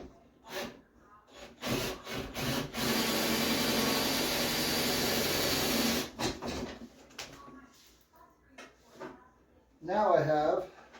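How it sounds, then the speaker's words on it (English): An electric drill runs in one continuous burst of about four seconds, drilling through the top of a box for a flow hood build, framed by scattered handling knocks and followed by a voice speaking close by. "I'm going to take this drill"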